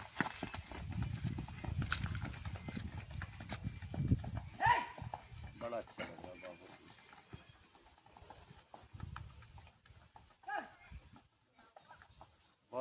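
A Turkish horse is ridden at close range, its hooves clip-clopping in an uneven rhythm, with someone talking and other voices around.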